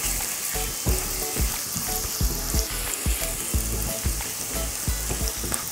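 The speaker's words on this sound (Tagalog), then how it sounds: "Lulutuin ko lang itong bawang hanggang sa mag-golden brown na." Crushed garlic frying in a pan as it toasts toward golden brown, giving a steady close sizzle broken by frequent sharp crackles and pops, with no one talking.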